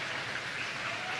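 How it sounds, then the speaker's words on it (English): A high school academic awards audience applauding, a soft, even hiss of many distant hands clapping together with no voices over it. "One last round of applause for them"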